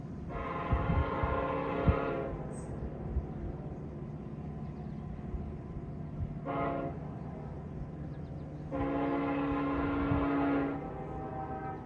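A VIA Rail train horn blows in the distance in three faint blasts: a long one, a short one, then another long one, over low background rumble.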